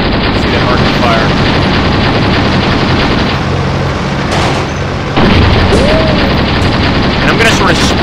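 Gunfire and blasts rumble in a Graviteam Tactics: Shield of the Prophet battle. A loud, dense, continuous roar of distant fire and booms runs throughout, dips briefly midway, then swells back, with whistling streaks above it.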